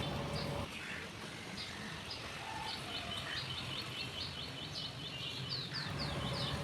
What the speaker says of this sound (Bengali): এই সকালবেলাটাই একমাত্র পাখির ডাক এত সুন্দর শোনা যায়